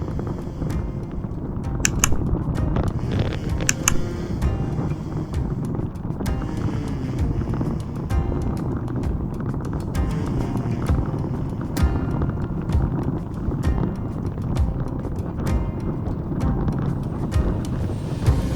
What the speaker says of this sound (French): je vais prendre un grain assez fort avec un vent de face important